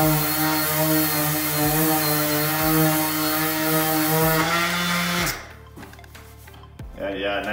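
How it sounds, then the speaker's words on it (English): A cordless DeWalt brushless variable-speed sander with dust collection works a painted cabinet using 220-grit paper. A loud, steady whine runs for about five seconds, then cuts off abruptly, leaving quiet room sound and small clatters. "I'm using this brushless, cordless dewalt sander, variable speed, really cool, has some dust collection on it."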